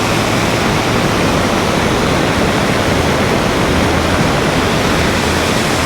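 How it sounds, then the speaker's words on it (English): Floodwater on Mount Wolvi rushes past as a torrent, producing a loud, unbroken roar that stays steady and close throughout, with no voices. "This has turned into a torrent."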